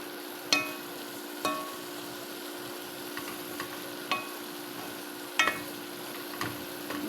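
Seasoned béchamel macaroni sizzles steadily in a pan, a soft continuous frying hiss broken by a few sharp ticks and utensil taps, close and alone with no voices.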